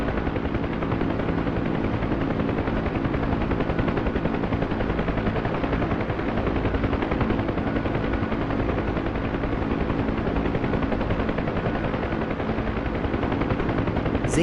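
A Huey helicopter in the flight game DCS drones steadily throughout, its rotor chop and turbine whine forming a loud, constant, rhythmic pulse with no talking.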